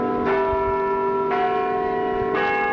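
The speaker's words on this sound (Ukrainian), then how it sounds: "розноситься цей дзвін на всю округу" Church bells ring out over a village, sending repeated strikes every second or so, their sustained tones overlapping in a steady, loud peal with no voices.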